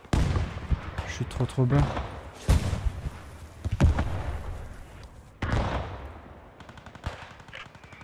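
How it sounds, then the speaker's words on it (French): Sharp bursts of gunfire and heavy booms from a tank battle in the WWII game Post Scriptum, scattered blasts at irregular intervals, some close and loud, with someone speaking briefly between the shots. "Il y a un combat de deux chars là"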